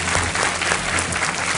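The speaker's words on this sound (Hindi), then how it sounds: "बहुत बहुत तालियों के साथ इनका स्वागत" A studio audience on a KBC television quiz show applauds a contestant's entrance, a thick, even wash of clapping throughout with no talk over it.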